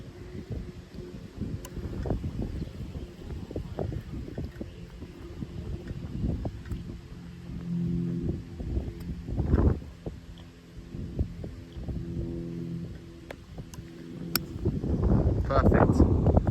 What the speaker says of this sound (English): Wind's picking up, I don't know if you can hear it over the mics.